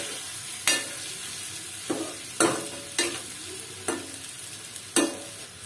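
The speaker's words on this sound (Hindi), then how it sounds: "सारे मसालों को अच्छे से मिक्स कर देंगे" Spices being stirred in a pan for a masala tinda (Indian round gourd) curry: a low, steady sizzle broken by six sharp spatula scrapes and clanks at irregular intervals, close and clear, with no talk.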